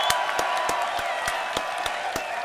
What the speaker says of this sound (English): Hey, can we give a round of applause?